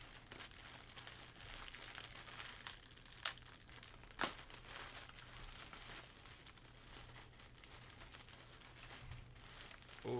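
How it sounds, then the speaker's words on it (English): Plastic packaging crinkles and tears as a hoodie from the Lyrical Lemonade x Jumpman collaboration is unwrapped at a small table, with soft continuous rustling and a couple of sharper rips near the middle. "let's unwrap it"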